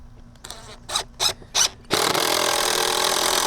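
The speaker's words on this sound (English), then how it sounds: "it's probably smart to pre-drill holes." A drill boring pre-drilled holes into wooden stair stringers during a rotten porch repair: a few short trigger bursts, then a sustained loud grinding whir as the bit cuts into the wood.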